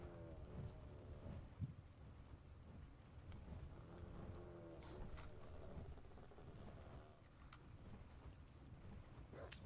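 Steady rain in the survival video game Ark Survival Evolved, a continuous low hissing wash with a faint rumble underneath, fairly quiet and unbroken throughout.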